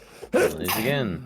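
A single sharp sneeze close by during a Minecraft modding session, a brief intake followed by a loud burst, and then a voice begins speaking.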